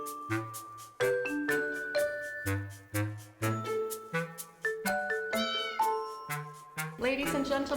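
Cat meows come one after another, each a short tonal cry with a clear pitch glide, fairly close and loud, in a quick repeating string that ends in a longer, harsher yowl.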